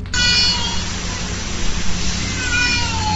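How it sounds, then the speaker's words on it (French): A cat meows loudly and plaintively on a busy set. One drawn-out cry sits over a dense, noisy background that runs through the whole clip. "Le chat il dit miaou quoi,"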